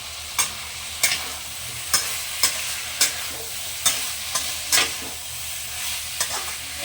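Pre-fried carrot and potato pieces are tossed into a hot pan with shrimp and raw jackfruit, giving a steady sizzle broken by regular sharp scraping and clattering strokes of a spatula.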